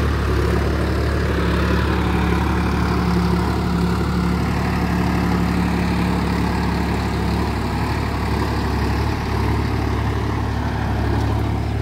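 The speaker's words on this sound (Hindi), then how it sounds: "अरुण भाई अपने ट्रैक्टर से जोत रहे हैं" A Sonalika tractor engine drones steadily at close range while ploughing a field deeply, a constant low rumble with no pauses and no talking.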